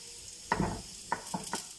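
Mustard seeds with a little urad dal, one dried red chilli and curry leaves crackle in hot oil for a South Indian curd rice tempering: a few separate close bursts of spluttering over a low sizzle, with no talking.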